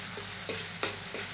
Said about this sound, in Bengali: সেজন্য পেঁয়াজ বাটাটা দিয়ে একটু কষে নিচ্ছি।